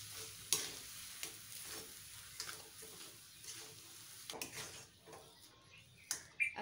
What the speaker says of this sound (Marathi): आता ही भाजी चांगली अशी एकजीव करून घ्यायची.